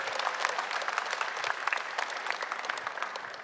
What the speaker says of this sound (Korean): 여러분 박수로 한번 격려해 주시죠.